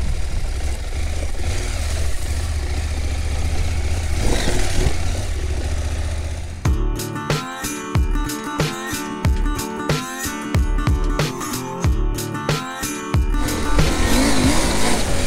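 A Husqvarna Norden 901 motorcycle engine revs hard, rising and falling through repeated sharp acceleration bursts and gear changes, loud and close with wind rush.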